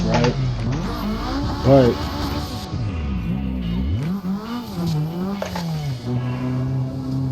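A drifting car's engine revving and throttling in Assetto Corsa, pitch rising and falling with throttle blips and some tire squeal, heard under someone talking.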